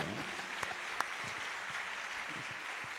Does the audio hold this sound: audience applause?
yes